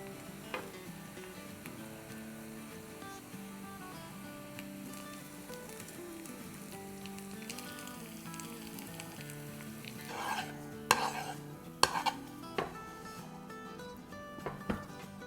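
Madrasi chicken biryani being served from the pot: a steady low sizzle and bubbling simmer runs throughout, with a few sharp scrapes and clinks of a serving spoon against the pot near the end.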